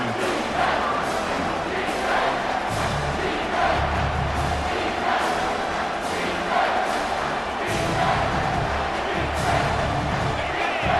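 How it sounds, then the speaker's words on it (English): A large college football stadium crowd roars steadily throughout, a dense wall of cheering and shouting with swelling surges and a low rumble underneath. "And here comes the noise. This crowd is trying to inspire this defense"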